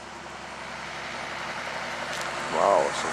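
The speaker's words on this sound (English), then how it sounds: "Wow, some traffic." Road traffic of cars and trucks passes near Troldeskoven, a steady engine rumble building to a louder vehicle sweeping by close at the end.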